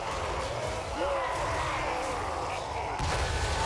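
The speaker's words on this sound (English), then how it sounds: "Talking about the close range cannon fire from the Soul Grinder of Nurgle." Close-range cannon fire from a Nurgle Soul Grinder's cannon arm in Total War: Warhammer 3, with booming battle shots and clatter under a dense, loud wash of combat noise, with thuds near the one- and three-second marks.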